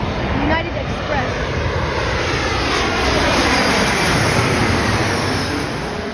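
A United Express Embraer E175LR jet passes at Chicago O'Hare with a loud, broad, continuous engine roar that holds steady for several seconds.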